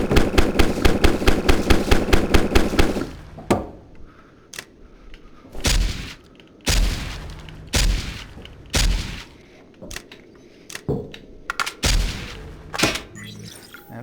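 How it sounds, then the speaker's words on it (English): Rapid automatic gunfire in the VR sandbox game Modbox, a fast string of evenly spaced shots opening the sequence, then heavier separate bursts and single booming shots with short gaps between them, loud and close with no talking. "And then some more machine guns."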